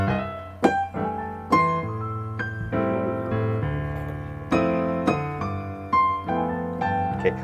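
A piano plays a cocktail-jazz exercise built almost entirely on steady eighth notes, with a low bass line under chords and melody, clear, close and continuous with no talking.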